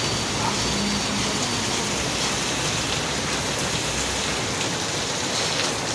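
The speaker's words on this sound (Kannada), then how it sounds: "ಮಳೆ ಬರ್ತಾಯಿದೆ, ಫಸ್ಟ್ ಟೈಮು ಮಳೆ ಬರ್ತಾಯಿದೆ" Heavy rain falls outdoors as a steady, loud, even wash of hiss that holds unbroken for several seconds with no voices over it.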